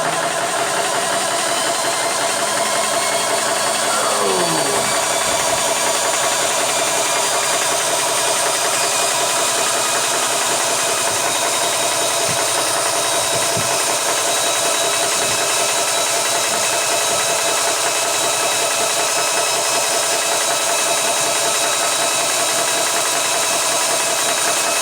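Vevor high-pressure pump filling a 3 L air bottle, with fans running: a loud, steady continuous mechanical drone and whine throughout, close up, with a brief descending tone early on.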